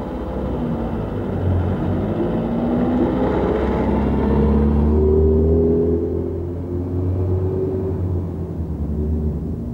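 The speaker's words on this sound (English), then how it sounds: "The single-car Sprinter diesel unit is on the main line to the Central Wales line." A single-car Sprinter diesel train unit runs on the main line toward the Central Wales line, its engine a steady low drone and rumble that swells and fades slightly as it passes, with no voices.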